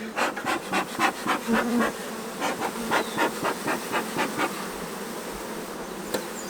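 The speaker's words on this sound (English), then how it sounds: "try to get all these bees corralled" Dense insect buzzing from many honeybees swarming close by around a long hive, pulsing in waves with a steady drone and no voices.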